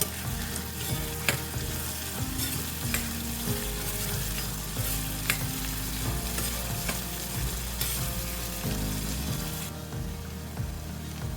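Chopped onion with salt cooking in a pan for kaleji masala, a loud continuous sizzle close up with repeated scraping and clattering of a spoon stirring against the pan.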